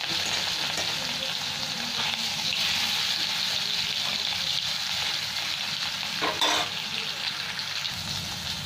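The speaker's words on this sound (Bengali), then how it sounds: "এখানে রুই মাছটা নুন হলুদ মাখিয়ে রেখেছি, এবার ভেজে নিচ্ছি।" Steady oil sizzling and crackling as salt-and-turmeric-coated rohu fish fries in a pan, a continuous hiss with occasional louder spits, no voices.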